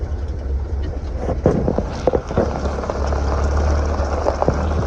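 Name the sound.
restored 1975 International Scout II driving on dirt road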